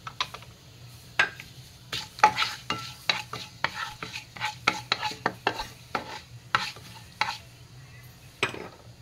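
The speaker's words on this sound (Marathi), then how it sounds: "तमालपत्र घेतलेले ते मी घालत आहे, त्याच्यानंतर हे दालचिनी लवंग ते घालत आहे।" Caraway seeds, bay leaf, cinnamon and cloves dry-roasting in a pan for a cashew paneer peas masala, heard as a faint sizzle under frequent spatula scrapes and light clinks against the pan.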